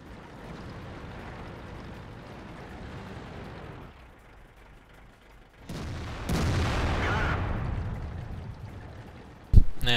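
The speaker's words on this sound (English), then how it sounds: "so I'm going to take a blind shot and I end up killing him here" In World of Tanks, a T110E3 tank cannon fires a heavy, booming shot, the blast landing after a rumbling lull and followed by a sustained roar and a sharp impact near the end.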